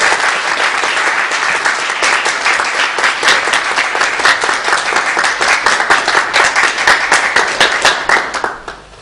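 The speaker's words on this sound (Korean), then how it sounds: "나오실 때 여러분들 박수로 환영해 주시면 감사하겠습니다." Loud, vigorous applause from a church congregation welcoming a pastor at an anniversary service, with many hands clapping in a dense rhythmic patter that swells and then fades out at the end.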